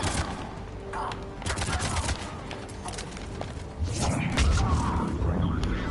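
Rapid sci-fi gunfire from a Mass Effect: Legendary Edition firefight, dense bursts of shots crackling over a busy game soundscape with mechanical clatter, loud and close throughout, swelling heavier near the end.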